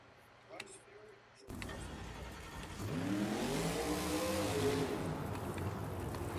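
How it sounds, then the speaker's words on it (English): Monster truck Jurassic Attack at an arena show, its big engine roaring up loudly after a brief quieter moment, revving steadily with crowd noise and an announcer talking over it. "That truck's got a lot of power in that truck."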